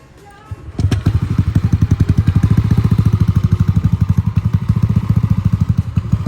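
A Yamaha Aerox scooter engine cranks on the starter and catches, then settles into a steady, close, rhythmic idle with a fast even putter.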